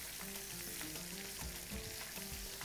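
Meat sizzles and crackles steadily in a frying pan, with faint scraping as it is stirred and turned, close and alone with no talk.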